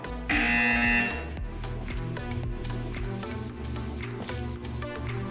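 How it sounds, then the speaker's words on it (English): A loud electronic buzzer sounds for about a second over background music in the game Portal 2, which keeps playing after it stops. "You will hear a buzzer. When you hear the buzzer, stare at the art."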